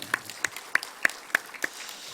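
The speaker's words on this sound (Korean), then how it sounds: "우리 하나님 영광의 박수 한번 더 올리겠습니다" Sparse, evenly spaced claps ring out in a church during a Sunday morning service, about six distinct sharp strikes in a slow steady rhythm with light scattered clapping between them.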